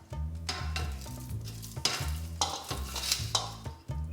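Chicken thighs and potatoes sizzle in a pan as parsley is stirred through, with rhythmic scraping strokes repeating over steady frying, close and fairly quiet.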